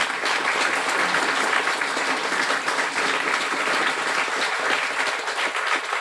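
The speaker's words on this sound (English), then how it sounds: "Please stand up for a warm round of applause." Sustained audience applause at a guide dog school graduation ceremony, dense and steady clapping from a large crowd filling the whole stretch without pause.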